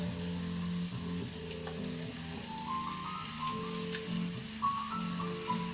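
Swedish meatballs frying in a pan: a steady, close hiss and sizzle of fat throughout, with faint tonal music running underneath.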